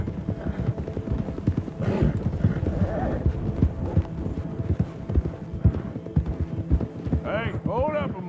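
Horse hooves clip-clop steadily as a rider travels in Red Dead Redemption 2, a continuous rhythmic trot with low background hum, a brief neigh-like sound and voices near the end.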